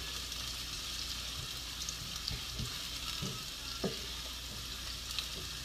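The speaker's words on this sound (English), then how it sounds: "we're going to soften these onions for about 5 minutes" Onions softening in a pan give a steady low sizzle and crackle, quiet and close, with a few faint clinks and stirring knocks and no talking.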